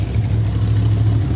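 A ProMod drag race car engine idles roughly at a test session at Bradenton Motorsports Park, running on what seems a wrong fuel map. It gives a steady, loud, low rumble that stays even throughout with no clear revs.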